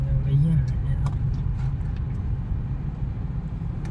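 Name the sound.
car engine as driver presses accelerator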